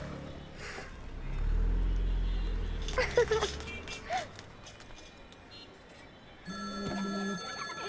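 A telephone rings in short bursts near the end, with a low rumble and scattered background noise earlier; no voices stand out.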